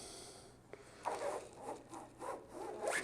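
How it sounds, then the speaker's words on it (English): A squeegee drags ink across a screen-printing screen in several short scraping passes. The rubbing, rasping strokes are close and fairly quiet, with no voices. "Maybe our squeegee's not squeegeeing enough."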